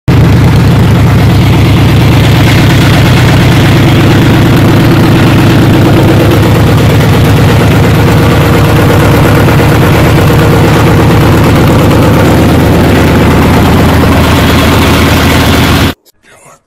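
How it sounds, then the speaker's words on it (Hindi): A Kirloskar diesel engine, just repaired with a replaced cylinder head after a white smoke problem, runs loud and close with a steady low rumbling idle for about sixteen seconds before cutting off abruptly. "हमने स्टार्ट करके देखा तो इंजन स्टार्ट हो गया।"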